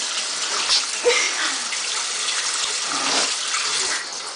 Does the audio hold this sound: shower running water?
yes